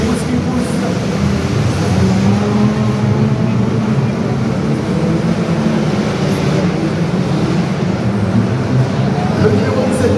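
Stock car race cars drive around the Eurexpo Lyon track in a steady, loud, dense roar of engines and crowd noise, with a commentator talking continuously over the din.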